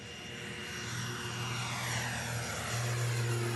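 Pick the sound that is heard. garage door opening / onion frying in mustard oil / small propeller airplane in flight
small propeller airplane in flight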